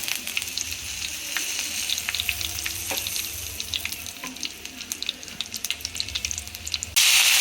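Red chillies and curry leaves crackle in hot oil after mustard seeds for a Kerala drumstick stir fry. The dense, even spattering continues throughout and swells into a louder burst at the very end.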